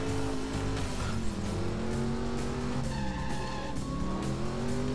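A car in the video game Driver San Francisco drives through city streets with a steady engine drone and long, continuous tire squeals from skidding, loud and close throughout.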